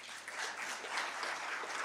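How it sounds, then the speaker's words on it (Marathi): Crowd clapping at a political speech by a BJP leader in Ratnagiri, a steady dense patter of many hands sustained throughout, moderately distant and without talk over it. "आता टाळ्या."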